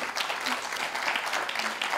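Audience clapping for a young local cameraman at a regional public-speaking contest final, steady dense applause filling the room at moderate level throughout.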